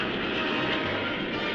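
Rocket launch effect from the Japanese tokusatsu series Ultraman Leo: a dense, sustained roaring rush like a jet engine, steady and loud across the whole moment, with no break or voice over it.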